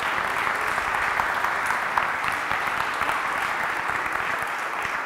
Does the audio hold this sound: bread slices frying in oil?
no